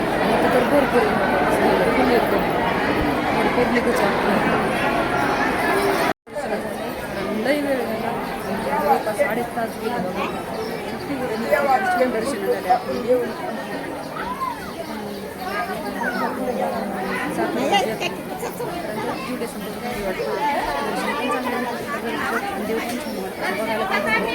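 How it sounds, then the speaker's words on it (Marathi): A large crowd waiting in a multi-row queue at Chakarwadi chatters continuously, a dense, steady babble of many voices close around, with one brief cut partway through. "लईच गर्दी आहे आज"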